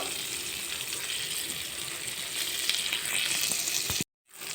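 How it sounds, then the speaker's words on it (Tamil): Curry leaves drop into hot oil alongside a tomato, giving a loud, dense crackling sizzle that swells slightly before cutting off abruptly near the end. "இப்போ கருவேப்பிலை போட்டுக்கலாம்"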